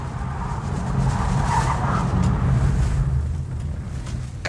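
A 2020 Kia Sportage LX rounds a curve with a broad, steady road and engine rumble, loud and continuous throughout, with a brief faint tire squeal in the middle.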